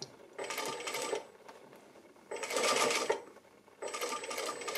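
Sewing machine running a short backstitch on a blouse seam, three bursts of rapid mechanical stitching separated by brief pauses, close and fairly loud.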